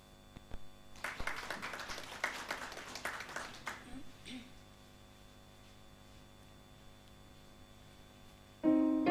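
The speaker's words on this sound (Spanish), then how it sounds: "Vamos a dar fuertes aplausos, por favor." A church congregation applauding the choir at a prayer service, scattered clapping for a few seconds that fades away over low mains hum, followed later by a sudden louder sound at the end.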